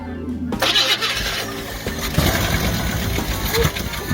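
A 1958 Chevy Bel Air, abandoned for over 40 years, cranks and catches after half a second of quiet, then settles into a rough, steady running rumble close by.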